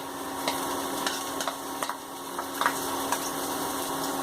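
Beans, carrot, capsicum and cabbage frying in a pan for veg pasta, a steady close sizzle with a few sharp stirring clicks scattered throughout, no talking.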